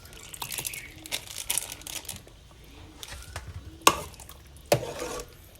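Beef blood poured into a Thai beef curry (kaeng om) and stirred in a pot, with soft wet stirring and scraping, faint crinkling, and two sharper clinks of utensil against the pot near the end.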